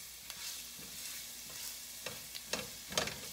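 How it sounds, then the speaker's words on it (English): Garlic sauteing in a pan for spinach artichoke dip, a soft, fairly quiet sizzle with a handful of crisp spatula scrapes and clicks growing more frequent toward the end. "I'm gonna put the garlic in here. And just saute that for just a moment."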